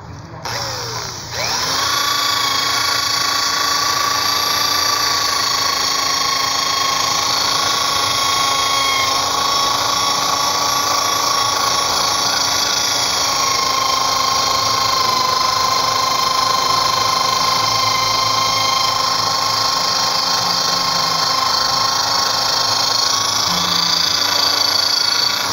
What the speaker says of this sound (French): Il va falloir faire sauter 6 points de soudure pour pouvoir libérer